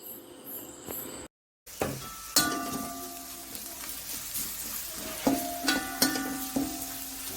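Turmeric powder stirred into a pan of white chickpea curry frying on the stove, with a steady sizzle and occasional scraping stirs, close by and alone after a brief gap.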